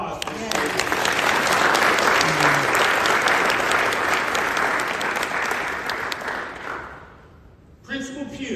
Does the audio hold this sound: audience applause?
yes